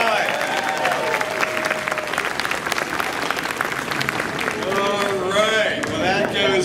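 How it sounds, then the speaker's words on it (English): An audience at a live science-center demo event bursts into loud, sustained applause, a dense wash of clapping that continues throughout while people talk and cheer over it. "Let's give her a big round of applause one more time."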